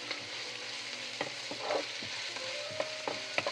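Onions frying in a pan until brown for mushroom tikka, a steady close sizzle with a spatula stirring and tapping against the pan every so often, no talking.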